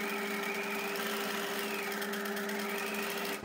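A sewing machine running a straight stitch along the edge of fabric hums and whirs steadily and fairly faintly for over three seconds, its pitch rising and dipping slightly with speed before stopping abruptly at the end.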